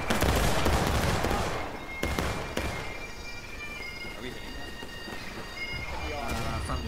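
A loud musket volley crashes at once in the Civil War video game War of Rights, then scattered single shots and crackling fire answer in the distance across open ground.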